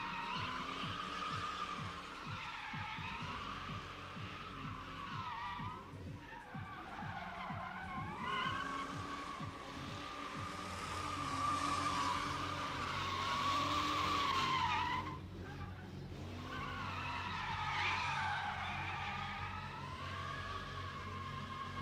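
A truck drifting at a drift and stunt show lets out long, wavering tire squeals over a revving engine, rising and falling across several passes at moderate distance.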